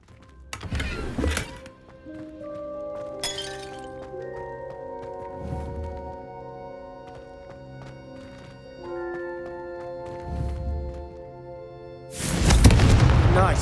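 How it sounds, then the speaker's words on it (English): Fiery Confringo spell blasts strike candelabras in the Hogwarts Legacy video game, giving several spaced booming bursts over sustained musical tones, with the loudest, longest blast at the end. "Confringo! Have a go at those candelabras."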